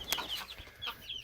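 A few soft clucks and short chirpy calls from chickens, scattered and fairly quiet against a faint background.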